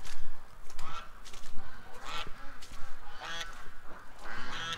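Several drake ducks call outdoors at the end of the day, a steady run of honking, quacking calls from a loose group, fairly close and with no talk over them.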